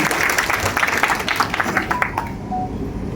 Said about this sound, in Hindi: तो एक बार इनके लिए एक बार जोरदार तालियां होकर इनका स्वागत करते हैं।